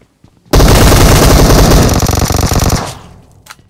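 Automatic gunfire in PUBG on the Livik map, a loud, rapid burst of shots lasting about two seconds at close range, then a brief tail and a faint final report.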